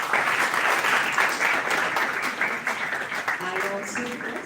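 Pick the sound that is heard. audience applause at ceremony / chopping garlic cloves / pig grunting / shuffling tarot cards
audience applause at ceremony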